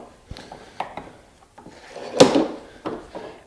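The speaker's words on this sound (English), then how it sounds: "Now we set it in the vise" A wooden workpiece for a side table is set into a vise and clamped, giving a series of dull wooden knocks and one louder scraping thud near close range, with no one talking.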